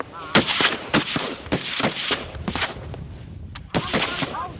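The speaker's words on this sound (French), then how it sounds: "Vous tirez qu'une seule balle." Soldiers in Madagascar, on a hunt for Dahalo bandits, fire Kalashnikov rifles in a ragged volley: many sharp, loud cracks scattered unevenly, some close together, mixed with voices and shouting.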